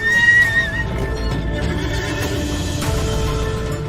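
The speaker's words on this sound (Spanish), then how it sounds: "Los caballos salvajes pueden pesar hasta 450 kilos, lo que los hace más difíciles de abatir." Wild horses neigh, a loud, close, shrill whinny that opens strongly and trails off in wavering, pitched cries, with no voices.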